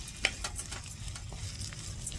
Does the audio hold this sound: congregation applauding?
no